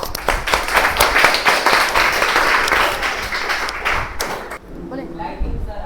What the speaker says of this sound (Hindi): ताली मारो सर